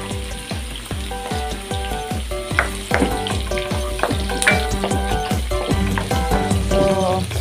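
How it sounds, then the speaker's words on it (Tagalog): Onion and garlic sauté in a hot pan with a constant sizzle. A spatula scrapes in a steady rhythm of about two strokes a second, close and alone with no talk. "Nagigisa na tayo, guys. Nilagay ko na yung aking sibuyas. Sunod natin yung ating bawang."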